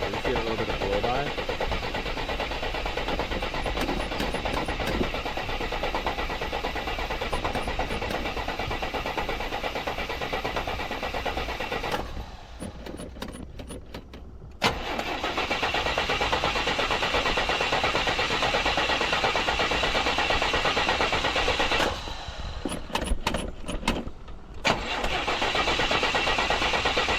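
A 1977 Buick LeSabre V8, sitting for 18 years, cranks and catches, then runs steadily at a rough idle with brief dips and a second stumble, while people talk over it.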